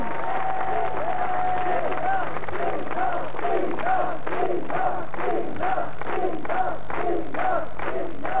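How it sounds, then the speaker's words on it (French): A studio audience claps in a steady rhythm for a singer on a 1989 French TV show, with regular beats over crowd noise and voices. "Vous pouvez l'applaudir"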